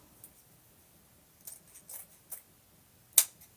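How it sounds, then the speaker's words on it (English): Scissors snip through long craft pieces to trim them down, a few quiet, separate cuts spaced irregularly with one sharper snip near the end, close up and without talk. "I made them long so I could cut them down."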